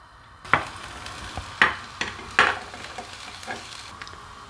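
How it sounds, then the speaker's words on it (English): Garlic dropped into hot oil for a grilled sandwich, giving close stir and scrape strikes with sizzling in between, each spaced about a second apart. "so I'm gonna add the garlic."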